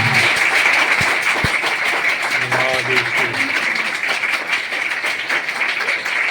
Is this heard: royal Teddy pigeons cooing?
no